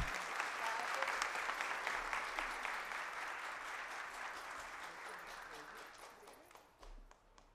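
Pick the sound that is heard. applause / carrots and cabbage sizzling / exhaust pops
applause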